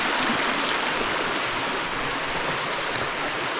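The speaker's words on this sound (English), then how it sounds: "3 streams up here, all coming from different leads" Three mountain streams tumble through Tasmanian rainforest near an abandoned village, their water making a steady, close rushing hiss that never lets up, with no speech.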